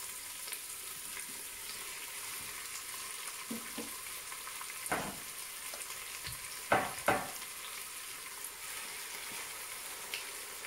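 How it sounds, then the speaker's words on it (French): Meat pieces browning with onions in a Cookeo electric pressure cooker pot make a low steady sizzle, broken by a few sharp scrapes and clacks of a utensil stirring, with no talk. "on va ajouter nos morceaux afin de les faire revenir. Avec les oignons."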